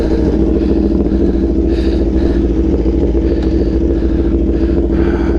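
A 2022 Aprilia Tuono V4 motorcycle runs up close with a loud, dense, steady engine drone and rough clattering texture, with no voices over it.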